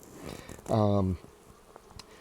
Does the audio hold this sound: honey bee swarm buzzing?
yes